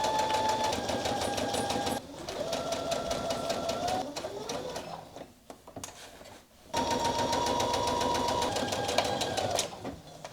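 A sewing machine stitches along the lower edge of a garment pocket in two steady runs, close and even, with a short pause and faint handling noise between them.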